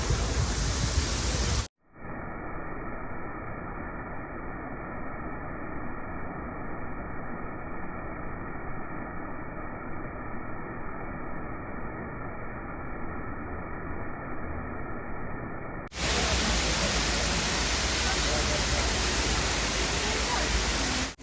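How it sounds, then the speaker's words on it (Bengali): A waterfall near Modalen, Norway, seen from a boat tour out of Bergen, gives a steady broadband roar that sounds muffled in the middle stretch and then opens up bright and full again. "বার্গেন থেকে 300 কিলোমিটার দূরে একটি ঝর্ণার কাছে নিয়ে এসেছে আমাদের নৌকা।"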